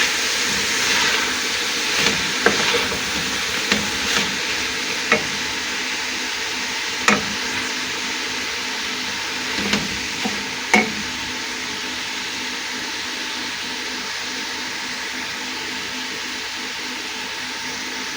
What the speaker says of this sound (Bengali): এইভাবে কিছুটা সময় আমি ভেজে নিব, তাহলে কাঁচা গ্রানটা থাকবো না